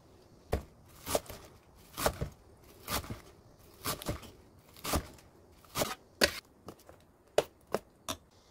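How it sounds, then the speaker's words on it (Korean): Green onions being chopped with a knife for a Korean side-dish seasoning: a dozen or so sharp, close knife strikes in an uneven, quick rhythm, with no talking. "절파를 송송 썰어 넣으면 됩니다"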